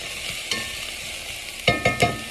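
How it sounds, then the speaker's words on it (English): Onions and peppers brown in a pan, giving a steady soft sizzle, with a few sharp stirring scrapes and clacks toward the end. "I'm just browning my onions, peppers,"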